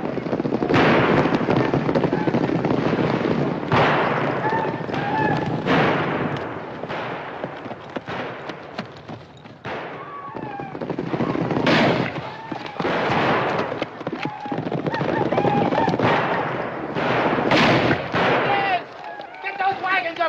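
Rifle gunfire rings out in a Wild West action film: repeated sharp shots crack at irregular intervals among shouting and a busy battle din, loud and close.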